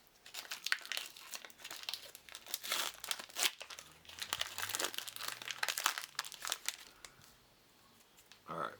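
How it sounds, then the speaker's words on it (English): Panini Americana trading card pack wrapper being torn open by hand, close crinkling and crackling foil with tearing bursts, soft and near, dying down to near quiet at the end. "So let's open the second pack up and see what we've got here"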